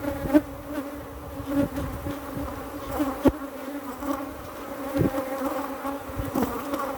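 Honeybees buzz steadily around a hive, a dense close droning hum with individual bees passing near and fading.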